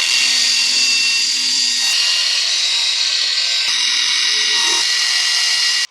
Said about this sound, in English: Harbor Freight sent me out a new tool. Thank you, Harbor Freight. Battery powered resurfacing.